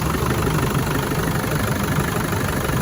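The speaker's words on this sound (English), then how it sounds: "Engine is running nice and smooth, no vibrations." A 1994 Land Rover Defender 110 300Tdi diesel engine idles steadily up close, an even low rumble with no change in rhythm throughout.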